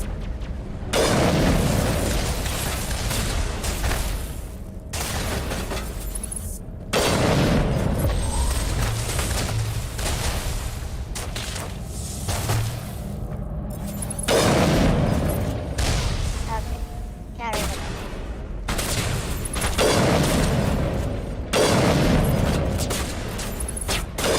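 Gunfire and explosions in the video game Mass Effect Legendary Edition boom in repeated heavy bursts with short gaps, loud and close, with voices talking over the battle.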